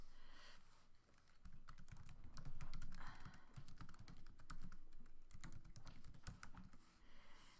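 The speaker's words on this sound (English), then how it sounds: "So I'm gonna go ahead and type that in." Quick, close taps on a computer keyboard, heard as irregular bursts of keystrokes with short pauses, faint and without talking.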